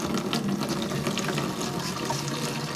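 Water pours steadily into a jerry can at a wild water source, a continuous splashing rush with no pauses and no voices.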